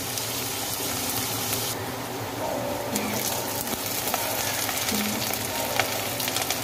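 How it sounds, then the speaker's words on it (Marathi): Chopped onion fries in a pan for a capsicum vegetable dish, a continuous close sizzle with light stirring scrapes throughout. "कांदा असा थोडासा फ्राय झालं की मग आपण त्याच्यामध्ये शिमला मिरची टाकूया।"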